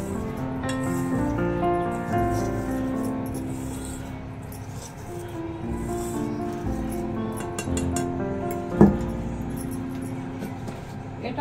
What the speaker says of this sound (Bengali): এইভাবে যে কোনো একটা হ্যান্ড উইচ দিয়ে আপনি এভাবে মিশিয়ে নেবেন।